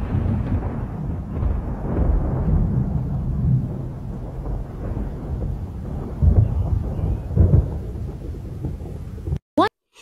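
A long, deep rumble of thunder rolls through a thunderstorm, loud and low with swelling peaks, cutting off abruptly near the end.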